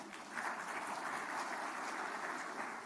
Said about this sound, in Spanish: Un aplauso para Marta también